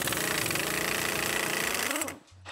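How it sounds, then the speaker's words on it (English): A 1-inch impact gun hammers loose a suspension bolt on a prototype Arrival electric van, a loud, dense, continuous rattling burst for about two seconds that then cuts off, followed by a brief lower mechanical hum. "I found a 1-inch socket that fits, and I found the 1-inch impact gun."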